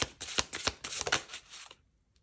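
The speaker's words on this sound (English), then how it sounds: "we are going to shuffle two out" Oracle cards are riffled and shuffled in a quick run of crisp, papery flutters lasting under two seconds, close and clear, then falling to silence.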